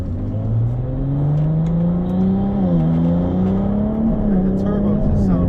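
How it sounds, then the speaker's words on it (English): A 2022 Ferrari 296 GTB hybrid supercar's engine drones loudly and steadily, its pitch rising and dipping as it revs, with a faint turbo whir layered on top. "the turbos just sound fantastic"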